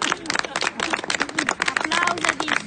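A crowd of street protesters claps in a dense, continuous burst of applause at close range, with a voice speaking over it.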